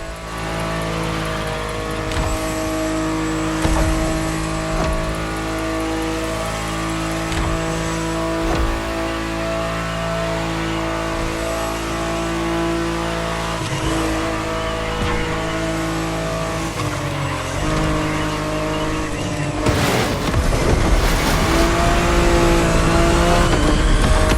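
Racing car engine in The Crew Motorfest revving and roaring continuously at close range, with gear shifts and a louder surge near the end as it lands jumps; no talk.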